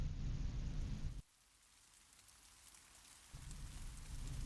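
Rain falling along the Dempster Highway on a bikepacking trip toward the Arctic Ocean, a steady hiss of rainfall that cuts away abruptly, drops to a faint wash, then swells back to a full, even downpour.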